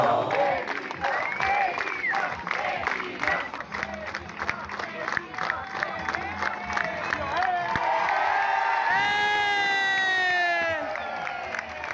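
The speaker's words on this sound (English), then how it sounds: "If a child is lost, people will clap together to make attention until the parent hears them and arrives." A crowd on a Brazilian beach claps together in a loud, sustained rhythm with cheering and whoops to signal a lost child, voices mixed in throughout, a shrill whistle-like cry rising near the end.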